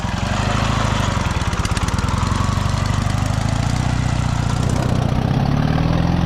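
The engine of a homemade garage-built tricycle made from an MT-10 motorcycle idles and chugs loudly up close, a steady low rumble with a rhythmic pulse, and no talk over it.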